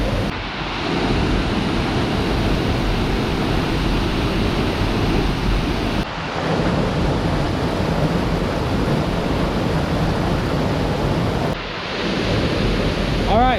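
Grogan Creek Falls in North Carolina roars as a continuous, dense rush of falling water, loud and close, with no voices over it.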